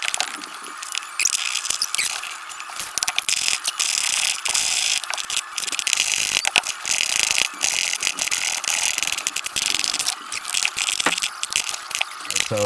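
A ratchet tightens a screw into a seat block on a 2018 Jeep Wrangler JLU rear seat, rapid close-up clicking in repeated bursts that runs almost continuously.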